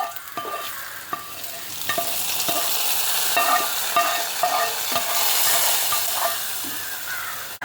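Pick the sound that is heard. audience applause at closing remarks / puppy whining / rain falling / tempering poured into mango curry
tempering poured into mango curry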